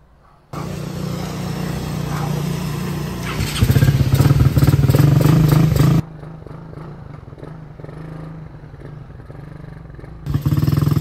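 A Suzuki Raider 150 carburetted motorcycle fitted with RB10 mag wheels rides past close by, its engine note rising sharply to a loud rev for a couple of seconds before dropping back to a steadier, quieter run.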